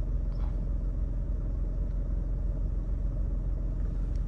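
Idling cars crawl in a traffic jam on a toll road, a steady low engine rumble with no break, close and even throughout.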